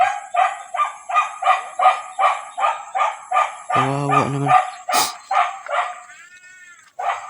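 A nearby dog gives a rapid series of short, sharp yelping barks, roughly two a second, with a whining cry in the middle, loud and close, and a voice speaks briefly over it.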